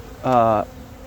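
A single close, steady insect buzz, bright and harmonic, swells for about half a second then cuts off, like Carniolan honeybees droning around a hive during inspection.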